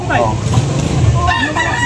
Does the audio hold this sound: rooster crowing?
yes